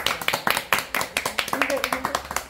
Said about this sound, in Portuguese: uma salva de palmas pra Nissinha